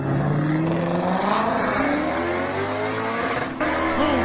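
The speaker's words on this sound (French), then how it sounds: "à la fin ça ressemblait plus à un moteur V8" A V8 engine revs loudly and continuously, its pitch climbing and falling in smooth sweeps with no voices over it.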